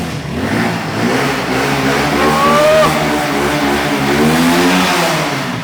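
A used second-hand motorcycle engine running and being revved, with its pitch rising and falling through a few throttle blips over a steady, loud, close-up engine drone.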